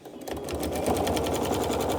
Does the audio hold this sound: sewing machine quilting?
yes